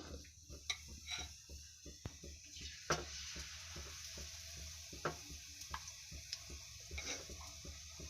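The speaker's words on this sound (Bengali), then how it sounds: "ব্যাটারটা থেকে এখন এভাবে মালপোয়াটা দিয়ে দিতে হবে। গরম তেলের মধ্যে" Malpua batter fries in hot oil with a soft, continuous sizzle, punctuated by faint ticks and light taps of a spoon, all quiet and close.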